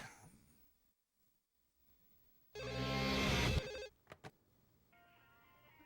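A cell phone in the video game No More Heroes rings with a loud, bright electronic trill lasting over a second, followed by a couple of short chirps and a softer steady tone.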